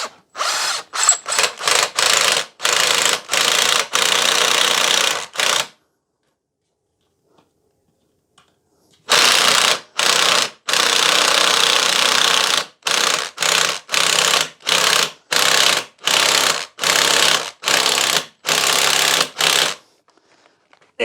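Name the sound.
power drill driving countersinking screws into wooden batten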